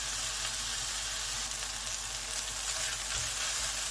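Onions and peppers fry gently in a pan, a steady soft sizzle and crackle running evenly throughout with no voices.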